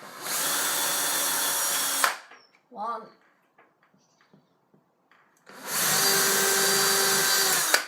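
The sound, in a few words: power drill drilling holes for blind fitting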